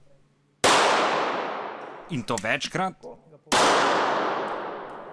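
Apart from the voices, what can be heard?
gunshots fired at a shooting range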